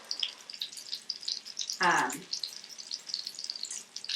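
Spanakopita burger patties frying in a pan, a light crackling sizzle with scattered spits and pops, interrupted by a brief louder burst of sound near the middle.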